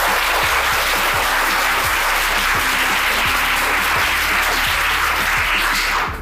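An audience at a motivational talk breaking into loud, sustained clapping that carries on steadily throughout over a faint rhythmic thump, easing off only at the very end.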